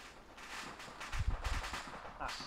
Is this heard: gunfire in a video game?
yes